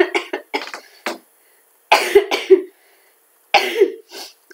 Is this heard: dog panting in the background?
no